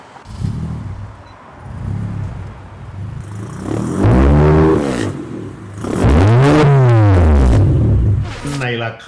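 A fully modified Honda Civic Type R with a K20 engine starts and revs, the engine note rising and falling in two strong, loud sweeps with someone talking over the idle between them.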